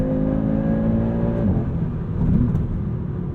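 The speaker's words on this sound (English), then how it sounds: "this is a wonderful time to talk about the sound of this inline 5-cylinder" A 2022 Audi RS3's inline five-cylinder engine drones loudly and steadily from inside the car, its pitch rising, dipping, then climbing again as it revs.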